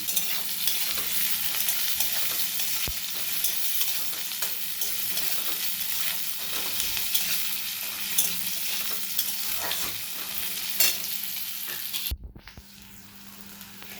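Onion and about three green chilies frying in hot oil in a pan, a steady dense sizzle with occasional stirring scrapes, close and continuous for about twelve seconds before cutting to a quieter moment.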